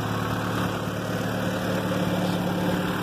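Turbocharged car engine idling through a straight-pipe exhaust with no muffler, just a downpipe and mid resonator, a steady, even low drone held close and alone for a few seconds.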